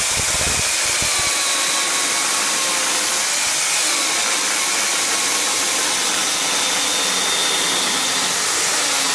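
T-REX rotary table miter mill cutting a timber rafter at a 40-degree setting, a loud continuous high whine with a rough grinding start, steady and close, no voices.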